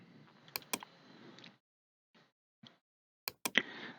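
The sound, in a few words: typing and clicking on a computer keyboard in SolidWorks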